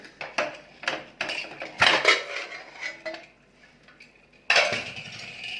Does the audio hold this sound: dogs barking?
no